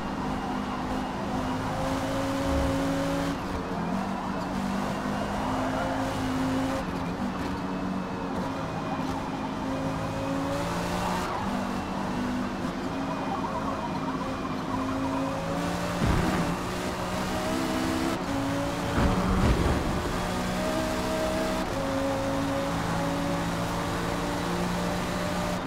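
In the Forza racing game, a KTM GT2 race car at Le Mans drones at sustained high revs for the whole stretch, its steady tonal engine note shifting pitch through gear changes, loud and continuous with no talk.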